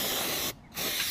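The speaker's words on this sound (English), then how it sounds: "She's after giving me a can of JCB maintenance spray, so JCB's version of WD-40" JCB maintenance spray, a WD-40-style lubricant, hisses loudly from an aerosol can onto rusty machine parts in two close bursts with a short gap between them.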